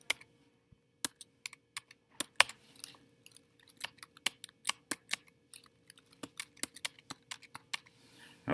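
Rapid, irregular clicks of buttons being pressed on a calculator keypad while entering matrix values, close and crisp with brief pauses between bursts, no talking.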